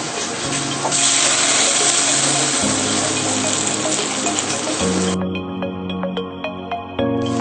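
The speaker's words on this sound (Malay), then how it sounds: "Panaskan sedikit minyak, kemudian tumis semua bahan kita sehingga terbit minyak." Steady, loud sizzling of spice ingredients sautéing in hot oil, continuous and close, with occasional stirring scrapes as the sound shifts.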